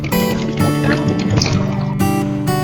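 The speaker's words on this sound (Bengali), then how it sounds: "একটা বোট ছেড়ে চলে যাচ্ছে" A boat pulls away from a river jetty in the Sundarbans under a breezy, cloudy sky, its engine droning loudly and steadily with water sloshing and churning close by.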